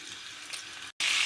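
Chopped garlic dropped into hot rapeseed oil, frying with a steady close sizzle and stirring; after a brief gap the hiss comes back louder and brighter.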